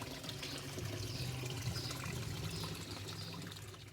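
Continuous gentle trickling and splashing of water circulating in a garden pond, steady and unbroken, moderately close with a soft outdoor wash.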